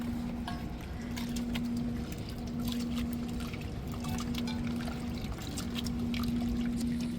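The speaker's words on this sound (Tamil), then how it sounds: "பாருங்க மழை பேஞ்சுக்கிட்டு தான் இருக்குது இந்த மலையிலையும் நல்லா மழை" Rain falls steadily on a hillside, a dense, even patter with scattered drips over a constant low hum, with no pauses throughout.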